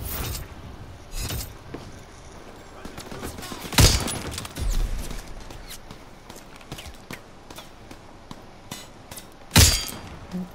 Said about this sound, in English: That M1 Garand.